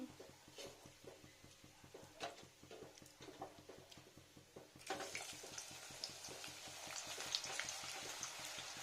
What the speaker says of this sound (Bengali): দেখুন কি সুন্দর ফ্রাই হচ্ছে